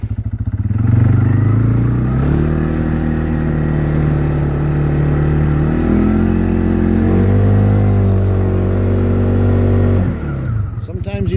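A farm vehicle, locked in diff lock, drives through snow along a bale grazing trail, its engine droning loud and steady with shifting pitch as it pushes forward, then easing off near the end.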